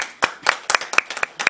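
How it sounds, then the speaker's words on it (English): A handful of people clap at a COVID-19 press briefing held by a national emergency operations centre, with sparse, close, uneven individual hand claps in a loose rhythm against a quiet room. "I earnestly believe that you are deserving of a hearty round of applause."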